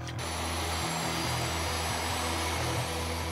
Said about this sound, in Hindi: अटैक हेलीकॉप्टर से घिरा ये Mi-17 V5 हेलीकॉप्टर आखिर यूक्रेन में डॉनबास के एक सीक्रेट मिलिट्री बेस पर जा रहा था